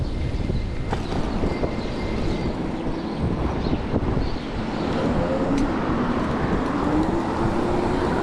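A car driving along a city road, with a steady broadband rumble of tyres, engine and wind noise throughout and a faint rising whine partway through, close and continuous, with no talking.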